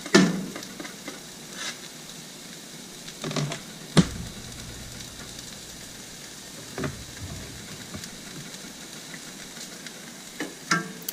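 Finely chopped onion and minced garlic fry in olive oil over medium heat with a soft, steady sizzle, broken by scattered scraping clicks and a few sharper knocks from a utensil in the pan.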